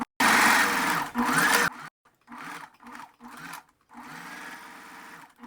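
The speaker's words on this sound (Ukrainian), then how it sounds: "І тепер прокладаю другу строчку." A sewing machine runs in a steady loud burst while stitching a second seam on a bust made without an overlocker, then continues in shorter, quieter start-stop runs.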